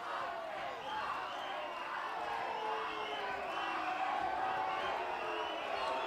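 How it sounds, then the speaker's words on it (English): Boxing arena crowd at a WBO super flyweight fight between Jorge Arce and Angky Angkota cheering for Arce; a continuous, moderately loud wash of voices and shouts with a commentator talking over the din. "Crowd, needless to say, very much in support of Arce"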